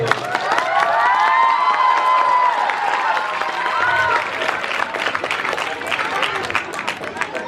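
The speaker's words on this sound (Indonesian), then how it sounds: "Beri aplaus untuk para peserta." A school audience applauds quiz contestants at a religious knowledge competition final, with sustained crowd clapping and cheering and voices mixed in that slowly thin out.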